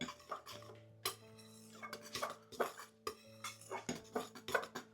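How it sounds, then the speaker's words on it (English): A spoon stirs dry sieved salt, ginger, mixed spice and baking powder in a bowl, giving light repeated clinks and scrapes against the bowl in an irregular rhythm, close and fairly quiet. "And then we're just going to give that a stir, just to incorporate those ingredients together."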